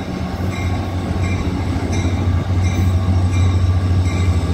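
A Bombardier train rolls past close by, with steady low rumble, rhythmic wheel clatter and faint squeal throughout, loud and continuous with no talking.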